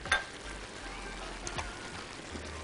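A generous cube of butter melts in a frying pan, producing a faint, continuous sizzle with a few small pops and spatters, fairly quiet and without talking.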